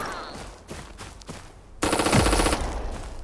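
Gunfire in the shooter game Project Evo, a sudden loud burst of rapid shots after quieter moments, dense and close, with no talking.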